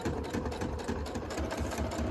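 A sewing machine runs steadily as it stitches a straight line along paper envelopes, its rapid motor chatter close and continuous with no talking.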